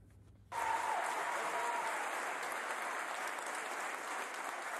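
Crowd in Bordeaux applauding Alain Juppé's homecoming, welcomed by a guard of honour: after a brief quiet start, dense, sustained applause begins abruptly and holds steady at an even level to the end.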